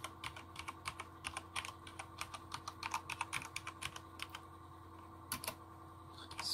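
Rapid, irregular keystrokes on a Corsair K70 RGB gaming keyboard, a steady run of close, crisp clicks and clacks over a faint constant hum, with a couple of heavier key presses near the end.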